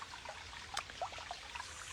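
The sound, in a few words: mountain water flowing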